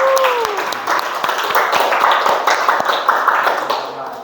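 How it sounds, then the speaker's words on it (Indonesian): Classroom applause from a group of students, a dense steady patter of many hands clapping throughout, fairly close and loud, with a brief rising voice-like tone at the start. "Tepuk tangan sekali lagi."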